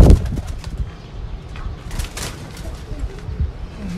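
A female pigeon is held in the hand, giving a loud burst of flapping wings at the start, then soft coos and rustling while a voice is heard nearby.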